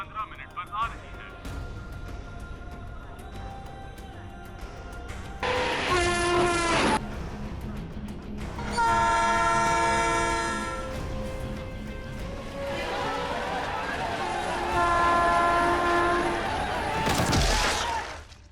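The Krantipur Express pulls into Okhla railway station with rumbling, clattering wagons and several long horn blasts over steady station noise.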